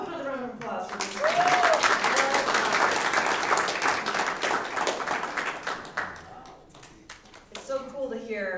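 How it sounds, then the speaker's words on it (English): An audience at a student award presentation breaks into sustained applause, many hands clapping steadily for several seconds before it fades, with voices speaking just before and after. "another round of applause for this"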